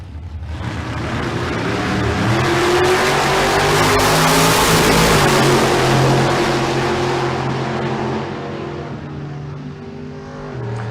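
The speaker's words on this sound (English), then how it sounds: "Cliff Hall in the Maverick, dialed in at 603. Valdez in the Camaro, dialed in at 663." Drag race cars, a Maverick and a Camaro, launch together down a dragstrip at bracket races, their loud engines roaring and building in a steady rush before easing off near the end.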